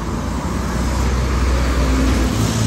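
Busy city street traffic in Davao City on a morning walk: a dense, continuous roar of cars, buses and trucks, close and loud, with no voices.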